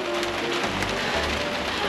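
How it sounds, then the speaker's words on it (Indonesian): Heavy rain pours steadily onto a surface, a dense, continuous hiss close by with no voices over it. "Hujan gede bah."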